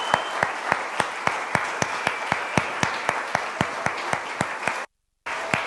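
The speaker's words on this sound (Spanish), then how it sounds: "Dele un aplauso más grande," Steady, sustained applause from a church congregation with sharp individual claps standing out, briefly cutting out near the end before resuming.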